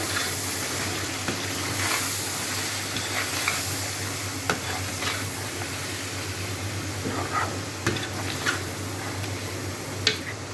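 Chicken with ginger, garlic and green chili paste sizzles in a pan while a utensil stirs it, giving a steady frying hiss broken by scattered scraping clicks.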